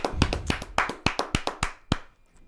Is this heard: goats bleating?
no